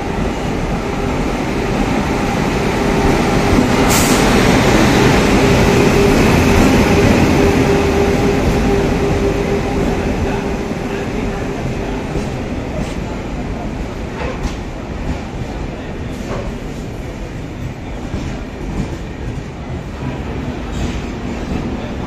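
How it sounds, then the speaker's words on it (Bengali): A train pulls in at platform 3 of Kharagpur station late at night: a loud, steady rumble of wheels and carriages with brief metallic squeals and low background chatter. "এই জাস্ট অ্যানাউন্স হলো ট্রেন আসছে 3 নম্বর প্ল্যাটফর্মে"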